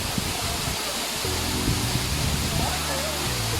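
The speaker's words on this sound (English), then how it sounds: "The waterfall is not too big," Kanto Lampo waterfall in Bali, a modest fall, makes a steady, broad rushing roar while a person talks over it.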